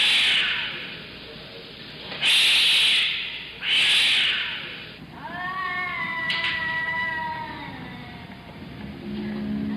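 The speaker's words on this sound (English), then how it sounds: "there are cats" Cats in the city at night caterwaul in a few loud, drawn-out bursts, then one cat gives a long wavering meow. The calls are close and stand alone with no talk.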